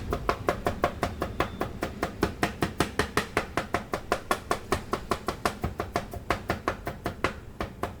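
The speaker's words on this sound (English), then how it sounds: "We'll also mince 20 grams of ginger for the pork strips." Ginger is minced for pork strips with a rapid, even run of sharp knife strikes on a cutting board, roughly four chops a second, close and crisp.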